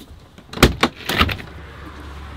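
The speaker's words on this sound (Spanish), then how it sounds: "que me están tocando en la puerta" Several sharp knocks land close by on a caravan door: two quick loud raps, then a short cluster, then a lingering low hum with no voices.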